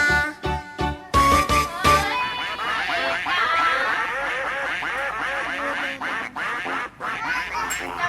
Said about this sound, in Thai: กาบกาบกาบเป็ดอาบน้ำในคู